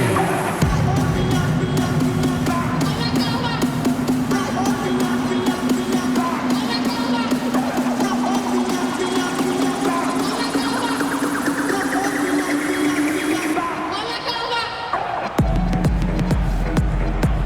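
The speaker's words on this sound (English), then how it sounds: "Give a big round of applause for your dance team." Arena crowd in NBA 2K26 cheering and applauding for the dance team during a Timberwolves vs. Lakers game, a dense, steady roar of noise and babble under music that drops off abruptly near the end.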